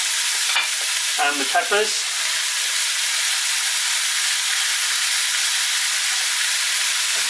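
Pork, onions, carrot and peppers fry in a pot with a loud, steady, hissing sizzle. A voice speaks briefly near the start, and the sizzle carries on alone after that.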